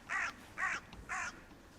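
A crow calls three times over a medieval graveyard in Kilkenny, harsh caws evenly spaced and fairly distant, alone in quiet surroundings with no speech.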